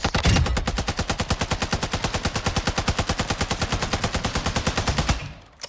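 Sustained full-auto burst from an RPK light machine gun in Warzone 2, a rapid, steady rhythm of sharp reports for about five seconds before cutting off, loud and with no talking.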